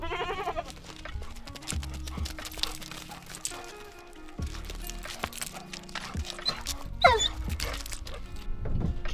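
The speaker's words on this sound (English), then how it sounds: "Leave the goats alone." Goats bleat repeatedly in a garage, wavering calls overlapping one another at close range, with a sharper high cry near the end and scuffling and knocking in between.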